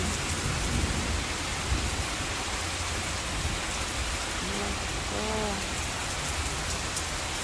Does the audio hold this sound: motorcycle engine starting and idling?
no